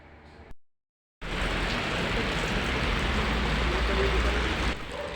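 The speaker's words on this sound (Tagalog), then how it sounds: "Biglang bumuhos ang malakas na ulan" A brief quiet moment gives way to a sudden, loud, steady roar of heavy rain pouring down nonstop, then it eases slightly at the end.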